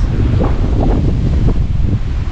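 Strong wind from the extreme weather storm Hans roars and buffets the microphone continuously in Børgefjell, Norway, August 2023, with a deep rumbling rush and no voices.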